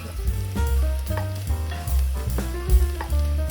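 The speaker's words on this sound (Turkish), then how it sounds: "Soğanları beyaz kalacak şekilde kavuralım. Ardından iki diş sarımsağı ekleyelim." Onions and two cloves of garlic sizzling and crackling in a hot pot, with occasional stirring scrapes and a faint musical background underneath.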